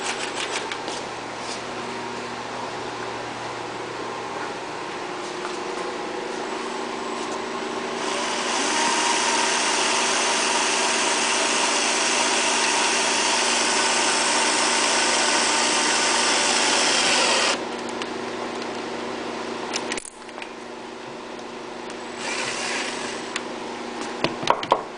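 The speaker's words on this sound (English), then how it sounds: "When you go to drill this hole, keep in mind that the valve cover is cast aluminum." A drill bores into a cast aluminum valve cover on a Yamaha EF6300iSDE generator, a steady whirring motor rising into a louder, harsher grind for several seconds before easing back, with a brief pause and clicks near the end.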